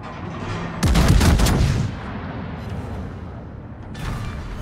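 Heavy naval gunfire from a Tier 9 battleship, the USS Georgia, in World of Warships: a loud booming salvo early on, then a fading rumble and a softer later blast.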